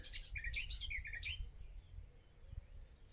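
Birdsong from behind a shrubbery at the back of a country garden in the morning: a quick burst of bright, high chirps and trills over the first second and a half, then soft outdoor quiet.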